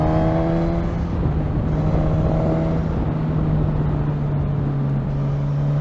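A 2020 Suzuki GSX-S1000 motorcycle engine pulls steadily in fifth gear, a loud, continuous droning whir with rising harmonic tones and heavy wind rush, no talk.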